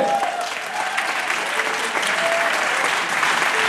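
A lively round of audience applause at a public outdoor gathering of an autism parents' association, many hands clapping densely and evenly at close range, with a faint voice underneath.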